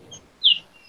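Small birds chirping outdoors, probably up in a tree: one brief, faint high chirp, then a louder, sharper chirp a moment later over a quiet background.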